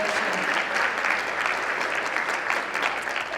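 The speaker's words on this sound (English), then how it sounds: "let us give them a round of applause for your hard work and dedication to this organization" Audience applause for board members at a Girl Scouts Women of Distinction awards luncheon in Fort Worth, a steady wash of many hands clapping at even volume, fairly close, with no talk over it.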